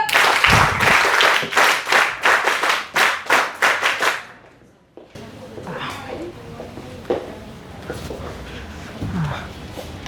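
Loud audience applause fills a college lecture hall at Daulat Ram College, dense clapping for about four seconds before it fades into quieter room murmur and scattered sounds.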